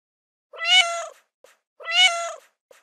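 Two clear, drawn-out cat meows, evenly spaced with a short pause between them, close and distinct against silence.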